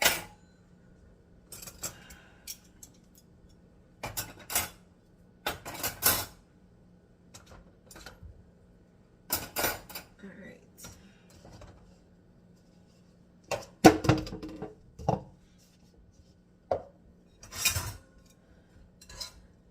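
Metal forks clink and clatter in scattered bursts as flatware is packed up at home, brief clusters of jangling separated by quiet gaps.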